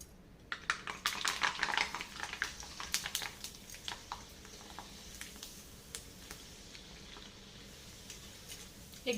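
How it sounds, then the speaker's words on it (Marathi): Rava kurdai fry in hot oil, a busy close patter of crackling pops that is densest early and thins toward the end, with faint clinks. "आता आपण तेल तापलेलं आहे आपण कुरडई तळून बघूया"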